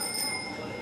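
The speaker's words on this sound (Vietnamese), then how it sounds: "em sẽ bấm chuông để em vô nhé." A doorbell pressed at the gate of a boarding house gives a short, high, ringing electronic chime that sustains briefly over a steady background of street noise.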